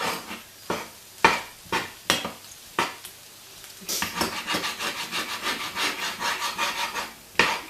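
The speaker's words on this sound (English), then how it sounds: "I know I shouldn't be using a metal utensil on a non-stick pan" A metal utensil scrapes a non-stick pan while cooking bubble and squeak: a few sharp separate scrapes, then a quick run of rhythmic back-and-forth scraping and one last loud scrape, with no voices.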